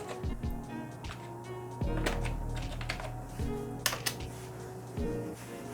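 Keys clatter on a computer keyboard as a web address is typed into a browser, a run of close, quick clicks over a low steady hum.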